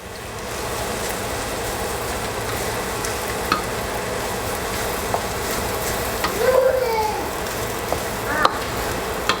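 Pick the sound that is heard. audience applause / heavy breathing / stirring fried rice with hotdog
stirring fried rice with hotdog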